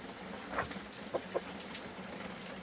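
A few soft, scattered clucks from chickens in a weekend coop after they have been caught in the rain, quiet and spaced out over a faint background.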